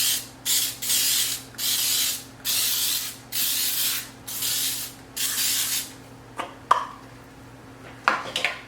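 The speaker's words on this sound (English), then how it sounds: "I'm just going to spray my muffin tin with the Baker's Joy spray" Baker's Joy baking spray hisses into a muffin tin in about six short, even bursts close to the mic, followed by a few light metallic clinks and taps from the pan.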